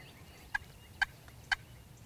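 Wild turkeys gobble three times, evenly spaced and moderately distant, over a quiet outdoor background during a turkey hunt.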